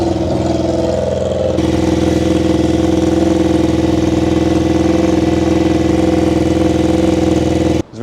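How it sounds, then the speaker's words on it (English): A project motorcycle engine running unevenly with a misfiring cylinder, a loud close idle with a lumpy, irregular beat that holds steady for several seconds before cutting off abruptly. "It's not running evenly, it's running very unevenly."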